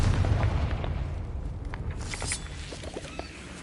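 A Confringo fire spell bursts in Hogwarts Legacy, a rumbling boom that fades into crackling debris and scattered small pops over a few seconds.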